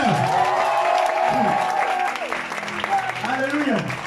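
Audience applause acclaiming the Lord at a French-language church service, loud clapping and crowd noise throughout, with a voice speaking over it.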